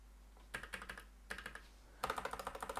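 Fingers type on a computer keyboard in three short bursts of soft rapid key clicks separated by brief pauses, quiet and close against a low steady hum, with no speech.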